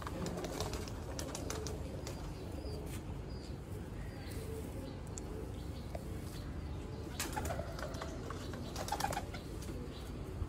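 A flock of pigeons kept for sale cooing close by, soft repeated low coos mixed with wing flaps and scattered sharper bird sounds over a steady busy background.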